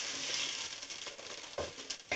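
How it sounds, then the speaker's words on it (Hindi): Chopped onions sizzle in hot oil in a home kitchen pan, a steady hiss with occasional stirring scrapes and spatter, close and clear with no talking. "तेल गरम हो चुका है हमारा। अब इसमें हम डाल रहे हैं प्याज"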